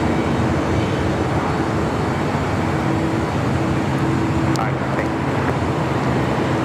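An American Airlines A321neo takes off at LAX, a broad steady jet roar heard from a distance alongside airport ambient noise, with faint talk in the background.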